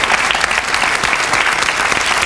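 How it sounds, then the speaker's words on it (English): Talk show studio audience claps steadily for a couple of seconds, a dense, even wash of hands that fills the room without any voices on top. "Go on and clap if you'd like to."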